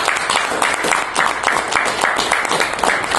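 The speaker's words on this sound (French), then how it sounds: "je commence par demander d'abord d'applaudir tous les participants qui sont venus" An audience at a colloquium applauds the participants, with loud, sustained clapping from a crowd that keeps an even, busy texture throughout.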